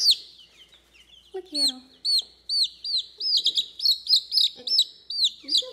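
Young chicks in an enclosure give a rapid series of high, sharp peeping chirps that grow more frequent toward the end, with a person speaking briefly over them.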